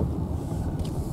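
A car rumbles past on a desert road near Ocotillo, California, a steady low drone that stays fairly loud through the short moment with no voices over it.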